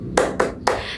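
Three sharp, close group claps from a classroom of students, clapping hands together in rhythm with short even gaps between them.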